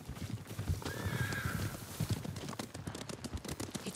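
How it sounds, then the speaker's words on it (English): Horses gallop in a steady clip-clop of hooves in Ghost of Tsushima, with one horse whinnying partway through, all loud and close. "Horses, they're coming for us."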